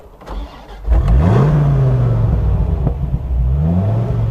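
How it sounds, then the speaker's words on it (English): A Dodge Viper RT10 V10 fires up with a sharp crank, then settles into a loud, close, deep idle broken by two rising revs, alone with no talk. "One of the most controversial aspects of the Viper has been the sound of its 10-cylinder engine."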